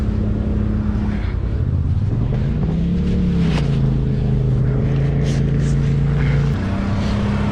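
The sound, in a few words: Polaris RZR Turbo 1000 off-road vehicles racing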